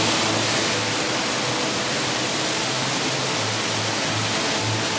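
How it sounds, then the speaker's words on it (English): An indoor waterfall in Bangkok gives a dense, steady rush of falling water that fills the space evenly, with no voices over it. "A waterfall. It's like an inside outside."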